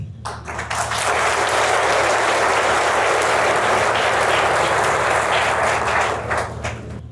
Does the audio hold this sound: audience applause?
yes